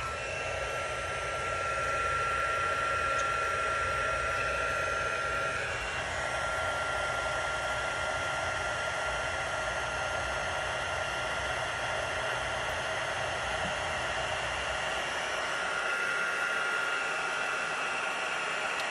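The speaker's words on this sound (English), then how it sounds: "let me turn my heat tool on and melt that powder" A handheld heat tool blows steadily to melt embossing powder on a card, giving a loud, close, unbroken whooshing roar from start to finish.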